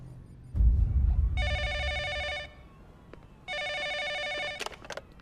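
A telephone rings in a comedy scene, two bursts of a bright electronic trill separated by a pause, loud and close, with a thump before and brief noises after.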